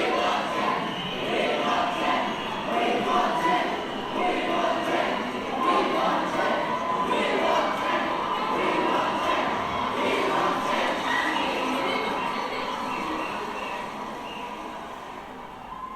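A large outdoor crowd of young protesters in face paint with placards produces a dense, steady roar of mingled voices and chanting, fairly loud and continuous before easing slightly toward the end.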